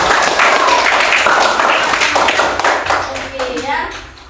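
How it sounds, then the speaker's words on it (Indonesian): Schoolchildren in a fifth-grade class clap for a classmate, a quick burst of many small hands, loud at first and tapering off as children's voices carry on. "tepuk tangan dulu untuk kawan kita."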